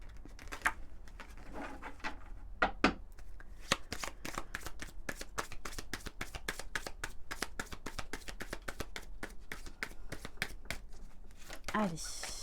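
Belline oracle cards are shuffled close up in a long, steady run of crisp riffling flicks, with a few slower slaps at the start and a brief voice near the end.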